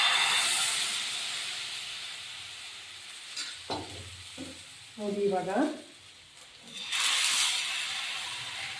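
Masala rotti batter hitting an oiled tawa, a loud steady hiss and sizzle that fades, with a voice talking in the middle before the sizzle flares up again.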